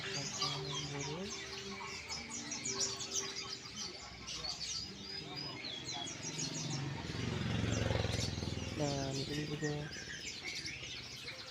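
Many caged birds chirp and tweet at a busy bird market in Malang, a mix of small songbirds calling over each other while someone speaks nearby and other voices murmur in the background.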